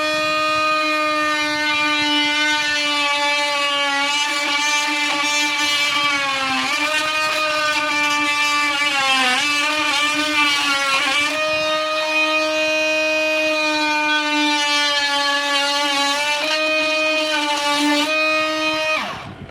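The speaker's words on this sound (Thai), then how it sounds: "วิธีการตัดท่อในช่องแคบของเรานะครับเราก็ใช้ตัวมันติดปูนครับเป็นตัวตัดท่อครับ" A power pipe cutter slicing through a leaking water pipe inside a wall during a plumbing repair: a loud, steady, high-pitched motor whine runs throughout, dipping slightly under load before cutting off at the end.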